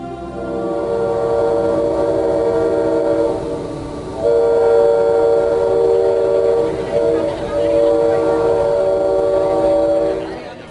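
A train running along the line with a long steady whistle, mixed with rumbling wagon noise, loud and continuous across the whole stretch with the whistle swelling midway.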